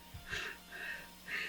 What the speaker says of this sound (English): He's breathing really heavy